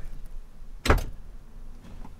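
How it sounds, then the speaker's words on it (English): The door of a Ford F250 overland build truck is opened with the key off and power on: one sharp latch clunk near the mic, then quiet cabin ambience with faint rustling. "I'm about to open up a door."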